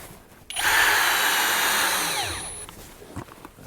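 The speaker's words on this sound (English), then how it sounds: "so I got some wood screws with me that I'm gonna put in instead" Power drill driving a wood screw, a single loud whirring burst of about two seconds that rises sharply and winds down, heard alone at close range.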